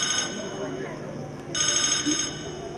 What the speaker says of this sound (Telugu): ఫోన్ అడుగుతా ఉంది